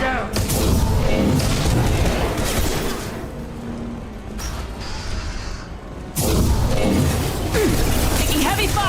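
Heavy weapons fire in Mass Effect: dense, continuous bursts of booming gunfire and mechanical clatter, loud and close, with a brief lull midway before the barrage resumes, under occasional voices.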